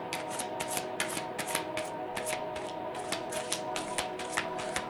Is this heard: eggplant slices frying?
no